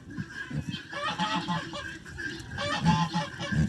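Guinea hens call on a farm, a run of harsh, rapid, repeated cackling and honking cries, fairly close, with other farm background behind them and no speech.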